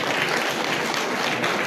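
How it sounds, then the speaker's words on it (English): A room full of people applauding at a youth empowerment graduation ceremony, a thick continuous wash of clapping at fairly high volume. "We clap for George Pony"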